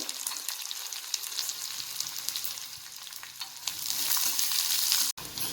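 Garlic and thin, long-sliced onion frying in a pan while turning pinkish, with a continuous bright sizzle that swells slightly toward the end, broken by a brief cut-out.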